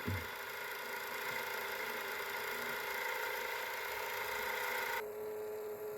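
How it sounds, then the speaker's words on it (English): A Realistic SCT-42 cassette deck's motor runs steadily through rewind and fast forward, giving a continuous close, moderately loud whine and whir that shifts tone abruptly near the end. "This is going to be rewind. And fast forward. There'll be that motor operating it."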